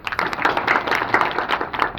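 An audience applauds a retiring soldier, Vinod Abbar, at his retirement ceremony: dense, close, steady clapping from many hands throughout.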